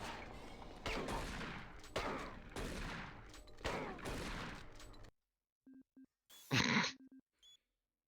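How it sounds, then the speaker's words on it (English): Shotgun blasts in DOOM 3, a series of loud, evenly spaced shots with rumbling tails, followed by quieter scattered game sounds and a short burst of noise. "That shotgun is garbage."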